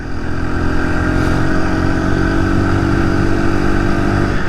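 A 49cc four-stroke motorized bicycle engine while riding, a loud continuous buzzing engine drone with wind rush, steady throughout.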